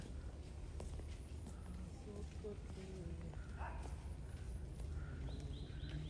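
A herd of about fifteen to twenty cows is driven by two men past a lake in Bhawal National Park, Gazipur, with soft, uneven hoof thuds on the ground under nearby voices.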